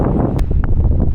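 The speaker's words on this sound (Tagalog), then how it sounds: "sobrang lakas ng hangin" Strong wind blasting across the microphone outdoors on a roadside, a loud continuous low rumbling buffet with brief gusty peaks and no talking.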